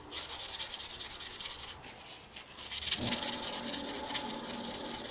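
Cloth rubbing steadily over an aluminum heat sink to wipe off old thermal paste: a continuous, close scrubbing and scraping with short pauses, growing louder and coarser partway through.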